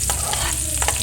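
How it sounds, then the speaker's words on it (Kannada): Chopped ginger and garlic frying in a few spoonfuls of oil, a loud, dense, close sizzle with quick stirring strokes. "ಸ್ವಲ್ಪ 1-2-3 ಚಮಚ ಆಗುವಷ್ಟು ಎಣ್ಣೆ ಹಾಕಿ ಇದಕ್ಕೆ ಕಟ್ ಮಾಡಿಟ್ಟಂಥ ಶುಂಠಿ ಮತ್ತು ಬೆಳ್ಳುಳ್ಳಿ ಹಾಕಬೇಕು"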